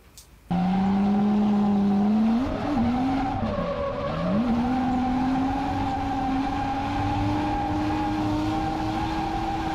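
A car drifting through a corner produces a loud, sustained tire squeal with the engine droning beneath; the screech wavers in pitch mid-slide, then steadies into a long continuous howl.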